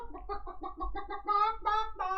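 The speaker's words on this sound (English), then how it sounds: "Chicken over there in the Digger game." Electronic chicken clucking from a Digger coin pusher arcade game, a quick run of about ten short, tuneful clucks that grow louder and higher toward the end, with no talking.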